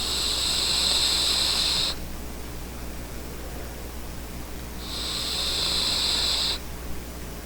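Two long, airy hissing draws are pulled through a rewickable Rafael vape atomizer tank with a ceramic and tungsten build, each breath lasting about two seconds and separated by a quiet pause.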